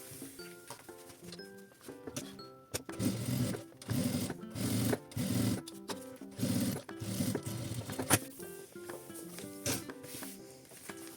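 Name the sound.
sewing machine topstitching faux leather and lining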